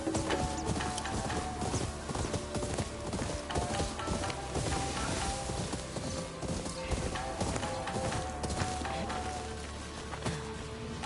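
Horse hooves clip-clop steadily through a video game scene, a continuous rhythmic trotting with game music and ambient layers underneath, and a voice talks over it at times.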